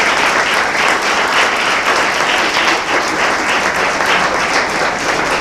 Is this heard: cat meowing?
no